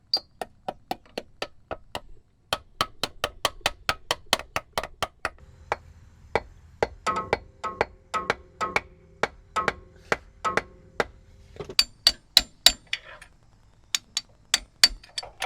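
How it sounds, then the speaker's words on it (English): A hammer taps a plastic cover to drive a half axle seal into place, a long series of sharp, close knocks in an uneven rhythm, sometimes in quick clusters and sometimes spaced apart, with faint movement sounds between strikes. "now just slowly, carefully and evenly hammering the seal in"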